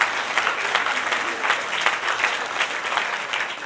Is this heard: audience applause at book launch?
yes